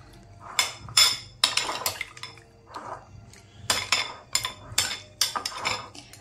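Fish being mixed with a ground spice paste using metal utensils, giving a series of close clinks and scrapes in irregular bursts, with no talking.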